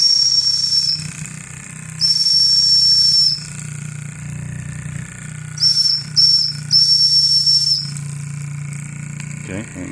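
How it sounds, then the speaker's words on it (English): The steam whistle on a Polly steam engine gives several loud, shrill blasts, some long and some short and broken, with a steady hiss and rumbling engine noise underneath. "I'll give the whistle a bit of a try now"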